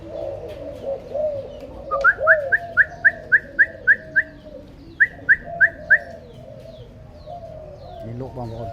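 A flying pigeon carries a whistle flute, which sounds a series of about a dozen clear, evenly spaced rising whistles in two bursts over a low murmur of background voices.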